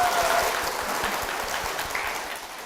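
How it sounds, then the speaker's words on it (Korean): Church audience applauding as a pastor's wife is welcomed onto the stage of a Korean Christian program, a full round of clapping that starts strong and gradually tapers off, with no speech over it. "사모님 박미경 사모님 박수로 모시겠습니다"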